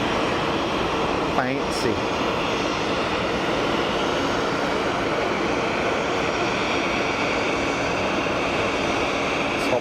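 A Boeing 737 business jet lands and roars through a heavy burst of thrust reverse, a dense, steady broadband rumble filling the whole clip close by, with a brief voice speaking over it.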